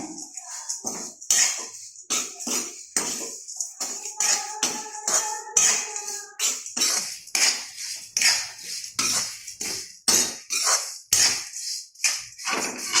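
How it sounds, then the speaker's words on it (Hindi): Roasted poha being stirred with turmeric and salt in a pan: loud, close metallic scrapes and clinks of a spoon against the pan in quick irregular strokes, with a brief ringing clink partway through. "हल्दी पाउडर, नमक वगैरह सब कुछ इसमें अच्छे से मिक्स हो जाए तब तक इसको चलाना है।"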